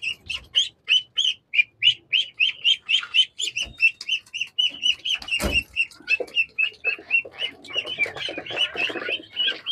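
Jinding ducklings about 28 days old cheep in a steady run of rapid, high chirps, close and fairly loud, with one brief louder knock near the middle and no talking.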